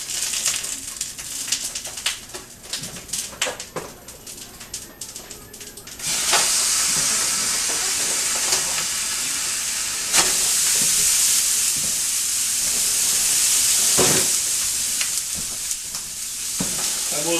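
Ground beef browning in a pan, heard as a loud, steady close sizzle and hiss that swells after a quieter stretch of scraping and stirring, with no speech.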